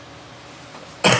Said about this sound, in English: I told you there'd be lots of coughing.